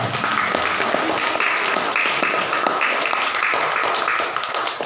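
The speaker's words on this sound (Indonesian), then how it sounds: "Tepuk tangan untuk air Zam-Zam." Children at an Islamic study group in Semarang applaud together in a dense, continuous round of clapping, loud and close, holding steady for several seconds with faint voices underneath.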